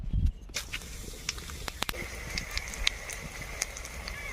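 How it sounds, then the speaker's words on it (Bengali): Whole garam masala spices hit hot oil for a mutton curry base, giving a steady close sizzling hiss peppered with sharp crackling pops after a brief quiet start. "তেল গরম হয়ে গিয়েছে ফোড়নে দেবো প্রথমে গোটা গরম মশলা"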